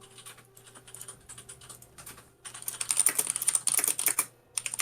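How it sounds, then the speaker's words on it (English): Computer keyboard typing rattles in quick irregular bursts of clicks, sparse and light at first, then denser and louder, with a faint steady hum underneath. "why is everyone typing?"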